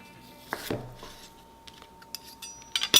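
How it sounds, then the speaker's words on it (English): Knife cutting a few chunks from braised pork belly on a board, with scattered close clicks and knocks of the blade against the surface and a quick scrape, brief and sparse with no talking. "I'm just going to cut a couple of chunks out of this"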